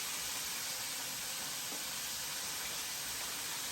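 Bacon-wrapped shrimp fry in hot grease in a Power XL appliance, giving a faint, even hiss that holds steady without breaks, heard alone and somewhat distant.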